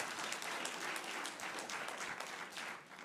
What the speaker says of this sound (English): Let's give the supportive type a round of applause